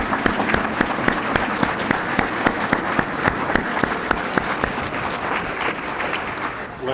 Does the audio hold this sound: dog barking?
no